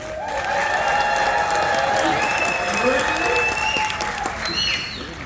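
Studio audience at a celebrity game show cheers and applauds loudly for several seconds, a dense wash of clapping with whoops and shouting voices rising over it, tapering slightly at the end.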